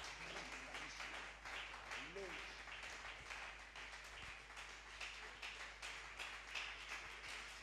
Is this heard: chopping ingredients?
no